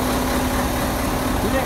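A large truck's engine runs at a steady idle, its exhaust giving a continuous low rumble with a faint tonal hum, close by and unbroken, with people talking over it.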